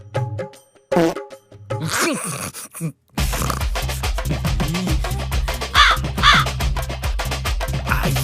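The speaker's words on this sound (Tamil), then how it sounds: "காக்காயி" A crow caws loudly and close, repeating harsh calls in quick succession over a steady background noise.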